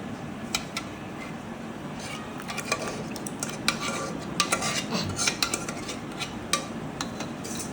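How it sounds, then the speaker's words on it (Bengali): Sago pearls added to milk sherbet in a pot: light clinks and scrapes of a utensil against the metal pot, with soft stirring and pouring sounds over a steady background hiss. "এই যে দেখেন এই পর্যায়ে সাবুদানা দিয়ে দেওয়া হচ্ছে।"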